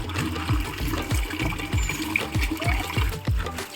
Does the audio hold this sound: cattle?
no